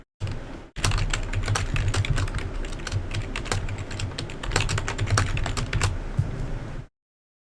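Rapid, steady clatter of keys as a username and password are typed on a computer keyboard nearby, continuous for several seconds after a short pause at the start and then stopping abruptly.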